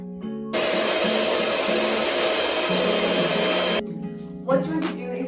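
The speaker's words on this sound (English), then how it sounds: "I'm using an electrical whisk" An electric whisk whips cream for Irish coffee, a loud steady motor whir running close for about three seconds, then cutting off to a quieter room with a brief clatter.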